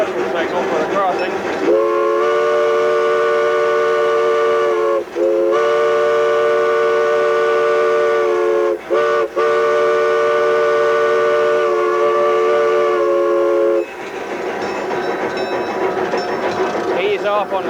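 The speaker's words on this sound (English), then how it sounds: "We'll be using the bell as a warning and the standard whistle signal for the crossing." Steam locomotive pulling out of the yard sounds its whistle in a long series of sustained blasts with short breaks for a grade crossing, the bell ringing underneath, loud and close.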